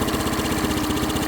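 A Honda BF15 outboard motor idles steadily during carburetor idle-speed adjustment, a loud, close, rapid even putter with no talk.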